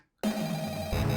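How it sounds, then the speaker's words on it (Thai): Telephone ringing in the Friday Night Funkin Phone Guy mod video game, a loud synthetic electronic ring starting abruptly after a brief silence and sounding steadily with no talk. "บอยเฟนมารับโทรศัพท์แทนนะฮะ"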